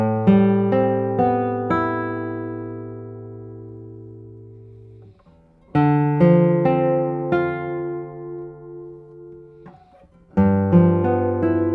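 Classical guitar built in 2015, played solo with ringing plucked notes and chords that decay slowly, loud and close, phrases separated by brief pauses.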